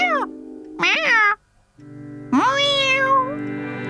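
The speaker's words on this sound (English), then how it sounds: "Meow. Meow." A cartoon cat meows three times, loud and close, the last meow drawn out and wavering, with a steady low hum underneath.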